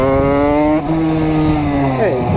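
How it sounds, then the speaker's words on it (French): Motorcycle revved on throttle alone without the clutch, a loud, steady engine drone whose pitch holds, dips slightly, then sweeps as the throttle changes, heard up close. "Il y a des méthodes qui consistent aussi à tout simplement accélérer comme ça, voilà, sans utiliser l'embrayage."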